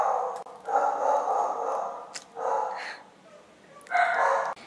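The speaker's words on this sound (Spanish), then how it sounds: "Si oís ladridos, lo siento muchísimo, pero es que son mis perras que cuando oyen cualquier cosa se ponen a gritar." Two female dogs bark indoors in a home, reacting to noises, with several bursts of loud yapping and yips spaced across the stretch, close by and alone without talking.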